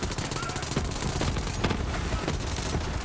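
Kaoson SMG in Borderlands 3 fires a dense, continuous burst of rapid automatic shots with booming game effects, loud and unbroken for the whole stretch, a voice faintly underneath.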